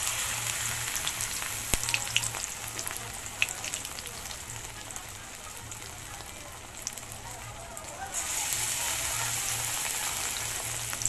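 Banana flower fritters deep-frying in hot oil, a steady dense sizzle and crackle close by that swells louder near the end, with a low electrical hum underneath.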